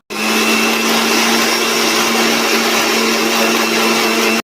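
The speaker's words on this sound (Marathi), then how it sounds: "आता मिक्सरमध्ये अद्रक, लसूण आणि कोथिंबीर टाकलेली आहे आणि आता आपल्याला ह्याची पेस्ट बनवायची आहे" A kitchen mixer grinder whirring steadily and loudly, close up, as it blends ginger, garlic and coriander with a little water into paste, running without a break before cutting off at the end.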